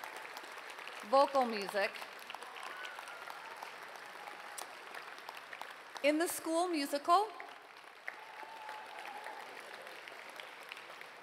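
Steady applause from a high school graduation audience runs throughout as a continuous wash, faint and somewhat distant, while an announcer speaks over it.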